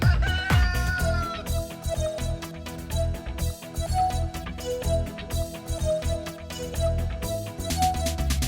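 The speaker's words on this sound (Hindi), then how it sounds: "कुकड़ूकू, कुकड़ूकू, मुर्गा बोले।" A rooster crows loudly near the start, its call rising and trailing off, over a busy children's song backing with steady rhythmic beats throughout.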